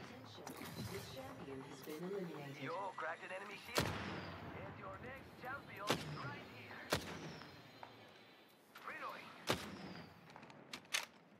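Gunfire in a multiplayer shooter game: sharp single shots and bursts spaced through a busy firefight, with players talking continuously underneath.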